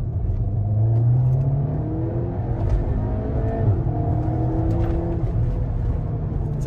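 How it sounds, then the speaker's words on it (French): Cupra Ateca 300 hp SUV engine revving hard with a steady, loud throaty drone and rising pitch, exhaust crackle faint underneath, close and continuous with no talk. "Ça fait du bruit, ça pétarade."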